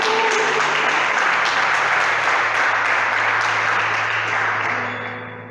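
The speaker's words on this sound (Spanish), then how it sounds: "Denle un aplauso al Señor en esta mañana." A church congregation claps loudly and continuously during a Spanish-language sermon, a dense wash of applause that fades out toward the end.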